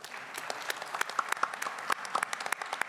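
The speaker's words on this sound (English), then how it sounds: "please hand them a round of applause" Scattered audience applause closing a military C4 modernization panel on the Indo-Pacific theater, distinct individual claps ringing out fairly quietly at an uneven rhythm.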